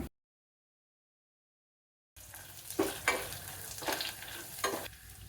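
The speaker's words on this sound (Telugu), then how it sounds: "ఈ తాలింపు అంతా ఏగింది" A tempering of garlic, pepper, cumin, turmeric, asafoetida, green chillies and curry leaves sizzles in oil for a tomato powder rasam, starting after two seconds of silence and continuing close with stirring bursts and clinks.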